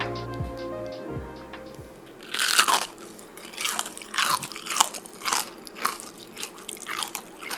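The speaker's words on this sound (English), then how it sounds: "Yeah, you heard it. It's crunchy, all right," A loud crunchy bite into a fried chicken sandwich, followed by a series of crisp, rhythmic crunching chews, close up, after a brief stretch of low humming.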